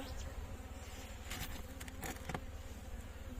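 A dense, steady drone of many honeybees buzzing close by at the hive, continuous and fairly loud for the whole stretch.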